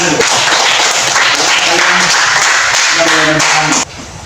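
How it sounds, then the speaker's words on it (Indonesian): Classroom applause: a burst of students clapping close by for several seconds, mixed with voices, then cutting off abruptly near the end. "Wah, tepuk tangan dulu."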